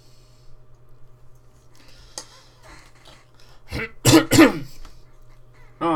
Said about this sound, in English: we're going to just be coughing throughout this stream.